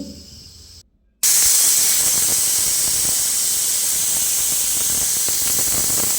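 A pressure cooker full of togarikalu sambar lets off a sudden, loud, sustained hissing blast of steam that runs steadily for several seconds after a brief quiet moment, with no voices.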